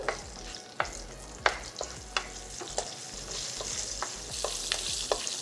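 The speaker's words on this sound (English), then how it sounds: "Adding the onion." Onions fry in hot oil with cumin, asafoetida and curry leaves for Udupi-style sambar, a steady loud sizzle broken by repeated stirring scrapes and clinks of a spoon against the pan, close with no talk.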